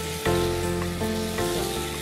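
Spice paste frying in oil in a pan for a loitta shutki jhal bhuna, a steady close sizzle with a few sharp stirring scrapes of a spoon against the pan.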